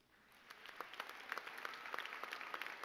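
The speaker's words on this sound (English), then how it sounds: "give them a big round of applause" An audience claps at a high school graduation, a dense, even applause that swells quickly from quiet and holds steady at a moderate distance.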